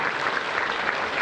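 Steady, dense applause from a tournament crowd saluting a Spanish three-cushion billiards (carom) champion at the World Games final, continuous and fairly close with no breaks.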